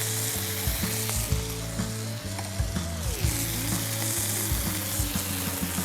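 Steak fries in a hot pan, a constant crackling sizzle with occasional scraping stirs and faint clinks over a low background hum, close and steady.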